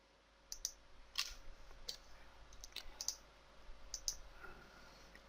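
Faint, sharp computer mouse clicks from a sleep-management software demo, a handful of single and double clicks spread over a few seconds above a low background hum.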